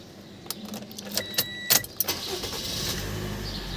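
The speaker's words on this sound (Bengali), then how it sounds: "চলো আমরা গাড়িটি স্টার্ট দিয়ে দেখি" Keys jingle before a 2016 Toyota Axio non-hybrid 1500cc car engine starts with a short cranking burst and settles into a low, steady idle rumble.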